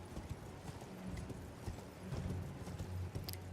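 Horse hooves clip-clopping in the Elden Ring video game, a steady run of muffled, fairly loud hoofbeats over a busy game soundscape of low rumble and scattered clanks.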